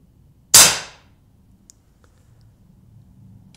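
A Colt Peacemaker single-action-army style BB gun fires one sharp, close crack that decays quickly, followed by quiet room tone and a few faint clicks.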